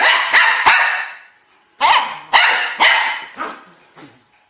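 A dog barks up close and loudly: a quick burst of three sharp barks, a brief pause, then four more barks that fade toward the end.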